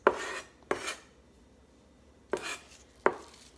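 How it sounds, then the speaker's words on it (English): Fresh thyme being chopped with a knife on a cutting board: four sharp, close chops in two pairs, each a crisp knock with a brief scraping tail, alone without talk. "Thyme you can just give a quick little chop like this"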